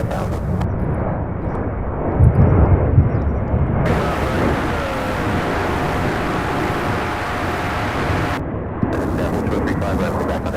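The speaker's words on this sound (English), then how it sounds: "Oh, another 767. This one heading to Albuquerque" A UPS Boeing 767 heavy freighter departs Louisville with a sustained loud jet roar, while radio chatter and a voice are heard over it and a brief thump breaks in near the start.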